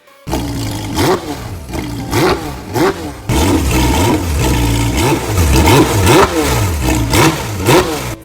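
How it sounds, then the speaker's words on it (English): A 2022 Porsche GT3 engine with a new exhaust revs hard again and again, each throttle blip rising into a loud, raspy exhaust roar before dropping back, close and with no talk. "As soon as he revved it, it let off an explosive roar that left him speechless"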